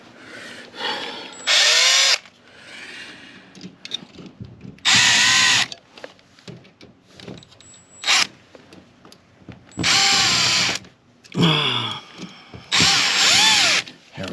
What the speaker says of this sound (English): So now, where's my drill?